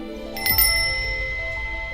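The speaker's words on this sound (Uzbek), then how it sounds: "agar qo'ng'iroq ovozini eshitsang," A bicycle bell rings twice in quick succession near the half-second mark, its bright metallic tone ringing on over a steady low background hum in a shop setting.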